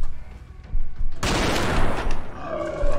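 Gunfire in the video game Fallout: New Vegas bursts into a loud, sustained fusillade of rapid shots after a brief quieter lead-in, with no talk.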